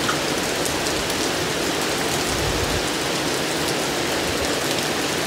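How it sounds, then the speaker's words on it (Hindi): Steady rain pours down in a mountain village during monsoon weather, a dense, even hiss of drops hitting surfaces at close range with no pauses and no voices. "अभी देखो भाई बारिश लगनी भी शुरू हो गई है।"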